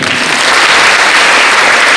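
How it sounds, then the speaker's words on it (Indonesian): Steady, dense applause from an audience at a university ceremony for the send-off of student community-service participants, filling the whole two seconds with no voices. "Ya, tepuk tangan."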